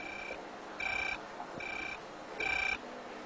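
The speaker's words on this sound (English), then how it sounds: "Yesterday, I was freaking out about some ringing phone." A telephone rings in short, evenly spaced electronic bursts, about four trills in quick succession. It sounds faint and somewhat distant against a quiet room, with no voices.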